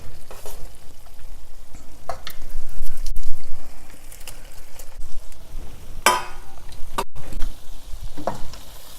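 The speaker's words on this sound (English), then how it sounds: "So I'm going to add the eggplant now." Eggplant pieces are dropped into masala in a hot pan for brinjal curry, setting off loud sizzling and frying with scraping stirs and a few sharp clanks.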